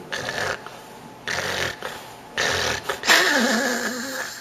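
A person imitates obstructive sleep apnea snoring, producing several rough, rasping snore bursts separated by pauses, ending in a louder choking, gasping breath; nearby and alone, with no talk.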